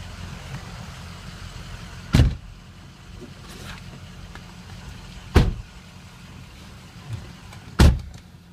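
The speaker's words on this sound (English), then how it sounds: "Let's take you guys on a short test drive" A 2004 Ford F-350 pickup with a matching topper drives on a short test drive, its engine and road noise a steady low rumble inside the cab, broken by three sharp thumps or clicks spaced a few seconds apart.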